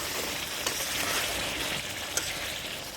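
Chicken meat sizzling and frying in its own released oil in a pan during kosha cooking, a dense steady crackle with occasional sharp pops, close and continuous with no voices.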